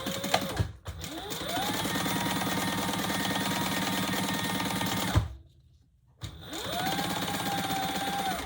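Sewing machine stitching folded leather for a Barbie-size tote bag, a steady close whirring run for several seconds, a short pause, then the motor spins up and stitches again.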